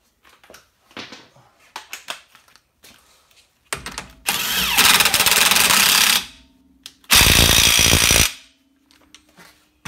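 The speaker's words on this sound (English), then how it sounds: "And then we're going to torque it again" Impact wrench hammering on the axle nut of a Toyota MR2, two loud sustained bursts of rattling after a few lighter clanks of tools, close up in a quiet workspace.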